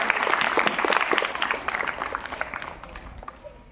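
Classroom applause as schoolchildren stand and clap during a morning assembly, a dense burst of many small hands that gradually thins and fades over a few seconds.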